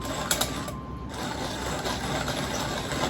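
Burr coffee grinder crushing coffee beans, a steady whirring, rattling grind that stays loud and close for the full length with no talk over it.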